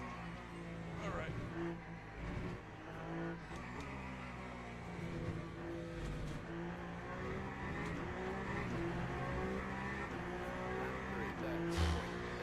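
A race car in a Le Mans racing video game slides around a track, its engine droning and shifting pitch under continuous tire noise, with someone talking over the game sound.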